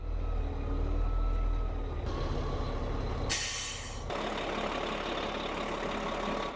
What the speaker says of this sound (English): So I'm gonna turn the truck around and I'm gonna pull backwards so I can see while I'm doing it.